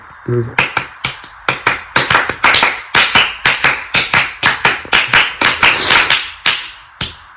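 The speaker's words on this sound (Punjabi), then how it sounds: "ਨਹੀਂ ਆ ਤੁਸੀਂ ਤਾੜੀਆਂ ਸੁਣੋ" Several people clap hands in loud, sharp, rhythmic bursts keeping time to a Punjabi boli, the claps steady and close through the whole stretch with brief pauses between phrases.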